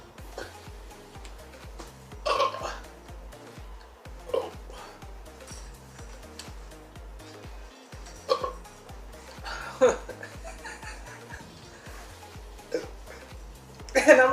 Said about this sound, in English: what you doing burping?